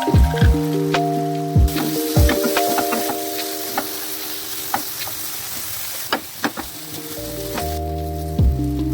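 Ground spice paste and tomato hit a hot pan and fry with a crackling sizzle and scattered stirring clicks, while steady musical tones run underneath.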